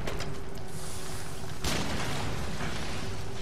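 Cannon fire in the NioH video game: a heavy booming blast lands midway through, set against a continuous dense rumble of battle noise.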